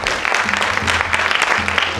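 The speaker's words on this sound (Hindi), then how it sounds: "मैं चाहता हूं कि वो ऊर्जा आपकी तालियों में जरूर दिखना चाहिए।" Audience applause at a theatre festival opening in Bhopal, a loud burst of dense clapping with a low musical hum underneath, lasting about two seconds.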